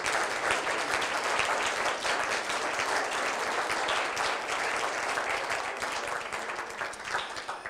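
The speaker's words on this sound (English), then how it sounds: "let's give the panel another round of applause" A conference audience claps steadily for a panel on divisiveness in democracy, with even, continuous applause at moderate distance that holds for nearly eight seconds and tapers slightly at the end.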